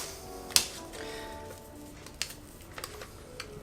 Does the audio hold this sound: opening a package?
yes